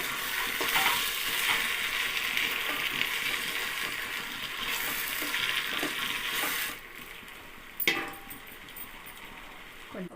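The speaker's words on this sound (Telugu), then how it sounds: "ఇవి కాస్త ఆయిల్లో పచ్చివాసన పోయేలాగా అల్లం వెల్లుల్లి వేపుకుంటాం" Ginger and garlic fry in oil for a vegetable biryani, giving a steady close sizzle for several seconds that drops to a quieter hiss, with a short scrape near the end.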